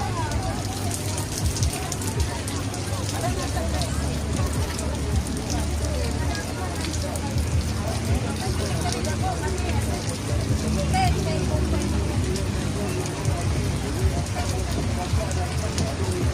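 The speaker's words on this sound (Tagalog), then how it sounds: "tuloy-tuloy ang ulan" Steady typhoon rain falls continuously, a dense hiss of drops on surfaces with low rumbling and faint voices underneath.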